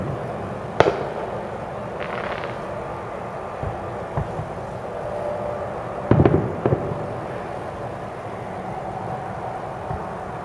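Distant fireworks pop and thud a few times, with sharper cracks clustered midway through, over a steady outdoor background hum.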